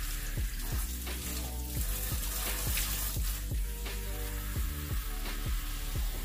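Steady broadband water rush from rinsing hair during a natural-curl restoration routine, continuous and close, with faint rhythmic pulses running underneath the whole time.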